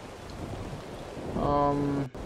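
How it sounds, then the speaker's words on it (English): Steady rain falls in the video game ARK: Survival Evolved, a continuous wash of patter. A brief tonal sweep sounds partway through, and then the sound drops out for an instant. "It's going to be a little bit rainy, but whatever."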